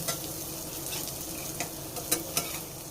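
Raw banana slices frying in hot oil, a constant close sizzling hiss with a few light clicks of a utensil near the end.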